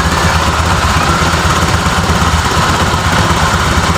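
Honda Vario 125 scooter engine running at a fast idle with a steady, buzzing, vibrating drone close to the mic, constant and loud with no talking.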